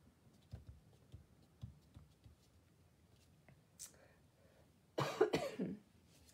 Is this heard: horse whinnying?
no